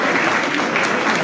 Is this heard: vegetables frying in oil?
no